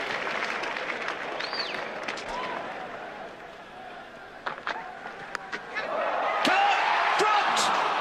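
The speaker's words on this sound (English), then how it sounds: "The crowd stands and applauds" A cricket crowd at a Brisbane Test between Australia and West Indies stands and applauds a six by Viv Richards, a broad wash of noise that swells loudly near the end while a commentator talks.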